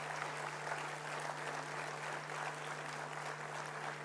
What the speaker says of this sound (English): can you just give all of them a big round of applause